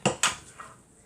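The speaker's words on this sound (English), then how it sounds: "I'm going to give it one more mix around just to get all those sides that I just scraped down incorporated." Sugar cookie dough being mixed in a bowl, with two sharp knocks of a utensil against the bowl early on, then a fainter scrape; close and fairly quiet, no talking.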